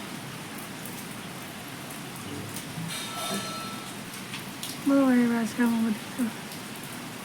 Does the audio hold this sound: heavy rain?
yes